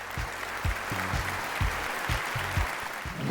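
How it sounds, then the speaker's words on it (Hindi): A studio audience at a televised singing competition gala round applauds a performance with a sustained wash of clapping, punctuated by regular low thumping beats throughout. "भरपूर तालियां रोहेल की इस परफॉर्मेंस के लिए"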